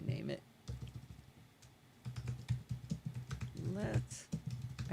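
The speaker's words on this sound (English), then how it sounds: "I can hear you typing, Steve." Computer keyboard typing during a live online show, with rapid clicks under ongoing voices as people talk over the keystrokes.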